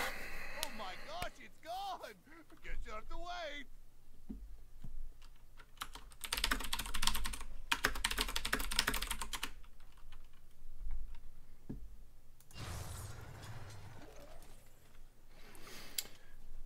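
Rapid clicking of a Windows computer keyboard during a Heroes of the Storm match, close and busy in bursts, mixed with game sound effects and a man's brief exclamations.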